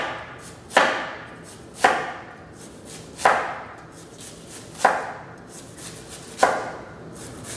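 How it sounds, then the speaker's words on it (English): A knife cuts cabbage into fine, thin shreds on a cutting board with a slow, even rhythm of five sharp chopping strikes, each followed by a short slicing rustle, close up with no talking. "Shredded cabbage for soup or coleslaw. Just fine, thin slices."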